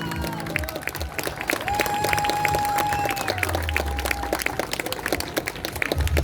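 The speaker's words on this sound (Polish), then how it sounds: "Poklaskajcie tym maluchom głośniej poklaskajcie." An audience applauds young Suzuki school performers in Grzybowice, dense continuous clapping with scattered cheers, while a voice talks faintly underneath.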